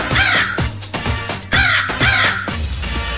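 A crow caws loudly and repeatedly in a steady rhythm within a Bhojpuri Raksha Bandhan song, the harsh calls standing out clearly in the mix.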